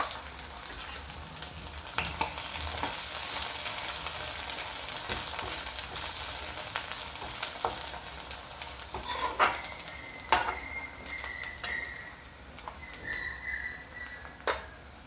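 Turmeric, grated coconut and ginger sizzle in a hot pan while being stirred, with soft frying crackle, scraping strokes and occasional sharp clinks of a spoon against metal, close and moderately quiet.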